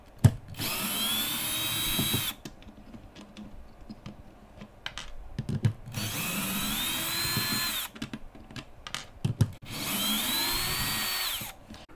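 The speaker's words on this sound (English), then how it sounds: "I'm going to do this a little quicker here using a drill." A 5/16 inch power drill removes screws from irrigation equipment, whirring in three sustained bursts, pitch rising as it spins, with clicks and handling clatter in between.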